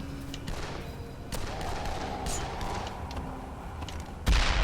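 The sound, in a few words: explosions in video game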